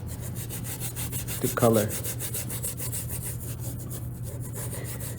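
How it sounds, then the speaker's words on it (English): Sanding down a PUMA shoe in preparation for painting it, a steady scratchy rubbing runs close by throughout, with a brief louder scrape partway through and a few spoken words. "let's go ahead and sand down what we want"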